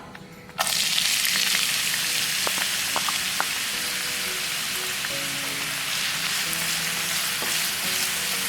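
Onion dropped into hot coconut oil for a Kerala crab masala fry: a sudden loud burst of sizzling after a quiet start, then a steady crackling fry with light stirring clicks.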